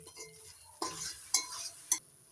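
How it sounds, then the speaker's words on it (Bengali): Spice masala with coriander powder and salt fried and stirred in oil over a low-to-medium gas flame for jackfruit-prawn curry: a faint sizzle broken by three distinct spoon scrapes against the pan. "এবার তখন কষিয়ে নেব যতক্ষণ না মশলার থেকে তেল ছেড়ে দিচ্ছে"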